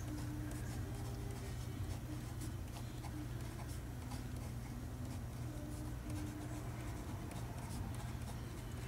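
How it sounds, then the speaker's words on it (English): A personalized message is handwritten on a stamped card, with soft pen scratches and small ticking strokes over a low steady background hum. "And then you can write your personalized message."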